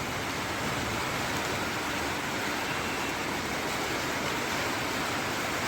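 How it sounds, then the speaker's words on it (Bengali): Heavy evening downpour of rain pours down steadily and loudly, a dense continuous hiss that stays even from start to finish with no voices over it. "এখন মুষলধারে বৃষ্টিটা নেমেছে।"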